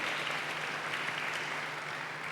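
A church congregation claps steadily together during a worship service, a dense, even wash of applause sustained throughout with no voices on top.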